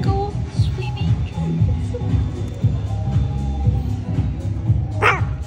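Dogs in a dog cafe, including a long-haired chihuahua, yip and bark in short bursts over a busy room of chatter and background noise, with a sharp higher yelp near the end.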